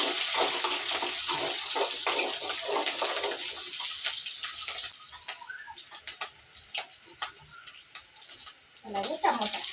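Onions and tomatoes being washed under a kitchen tap, running water splashing and spattering at close range, then easing into intermittent handling and rinsing sounds with faint background voices.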